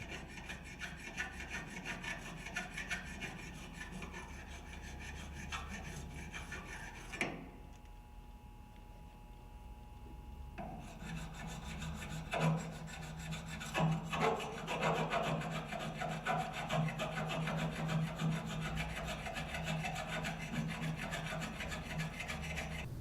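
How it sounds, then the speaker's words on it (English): Metal file rasping burrs off an aircraft airframe where a secondary mount fits, with repeated scraping strokes, a pause of near silence midway, then more vigorous rhythmic filing that grows louder toward the end. "Check for and remove any burrs on the airframe where the secondary mounts."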